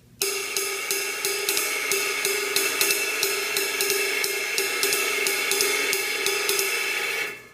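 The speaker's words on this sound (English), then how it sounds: "That's why it's called a ride cymbal, because you will ride this thing till the cows come home." Cymbal played in a steady ride pattern, bright metallic pings repeating evenly over a sustained shimmering wash, alone and fairly loud.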